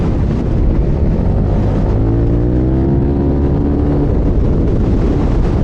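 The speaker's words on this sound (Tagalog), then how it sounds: "Baba mag-RPM ng motor ko." A motorcycle engine with a CVT, stock center spring and stock clutch spring revs in a steady, loud roar, pitch climbing then settling back, with no talk over it.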